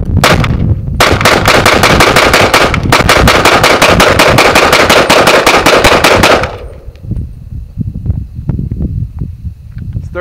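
Thirty rounds of rapid gunfire ring out loud and close in a fast, steady string, with a brief pause partway through, then give way to quieter rustling and movement.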